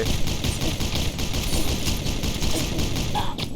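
Dense, continuous automatic gunfire rattles through a Pixel Gun 3D battle royale match, loud and close, with rapid overlapping shots throughout and a brief sharper burst near the end.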